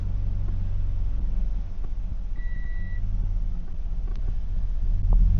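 A car engine on its first run after a new gearbox and clutch were fitted, idling with a steady close rumble, a brief electronic beep and a few faint clicks.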